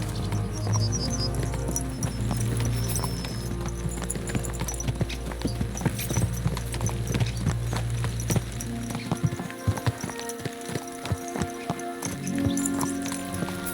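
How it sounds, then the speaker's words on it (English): Rapid hoofbeats of horses in the video game Kingdom Come: Deliverance II clip-clop steadily over a continuous background of music and ambient sound, with a brief pause in the low rumble partway through. "Let's really spur these horses on, eh?"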